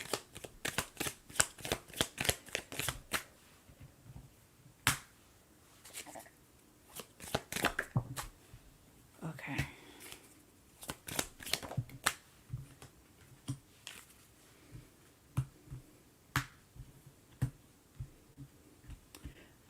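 A tarot card deck being shuffled, with repeated crisp riffling bursts and slaps coming in quick clusters, close and fairly quiet, with short pauses between runs and no speech.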